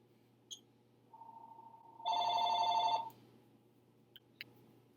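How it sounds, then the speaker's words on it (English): A landline telephone rings in a quiet room: a short tone, then a single electronic ringing burst of about a second. Faint clicks and small noises come before and after it. "Just gonna wait for the phone to stop ringing."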